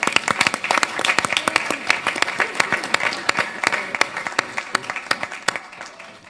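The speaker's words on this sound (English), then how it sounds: "Can we give him a round of applause," Audience at a city council meeting breaks into a steady round of applause, dense clapping from many hands that holds for several seconds before thinning out near the end.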